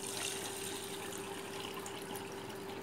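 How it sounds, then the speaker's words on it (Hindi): Lots of water poured from a tap into rinsed rice in a cooking pot, a steady continuous rushing splash with a faint hum underneath, close and even throughout. "अब हम एक बर्तन के अंदर चावलों को डाल देंगे अच्छी तरह से, और इसमें एकदम खुला पानी, खूब सारा खुला पानी इसमें डाल देंगे।"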